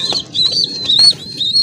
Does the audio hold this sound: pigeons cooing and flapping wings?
yes